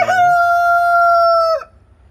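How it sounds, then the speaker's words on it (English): A single loud rooster crow rings out nearby, one long sustained call that cuts off sharply, followed by quiet. "kind of give you guys an idea on our roosters here"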